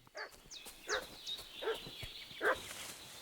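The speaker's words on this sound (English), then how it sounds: "I hear a dog barking." A dog barks in the medieval village of Kingdom Come: Deliverance II, giving four or five loud, sharp barks at a steady pace with small yips between them.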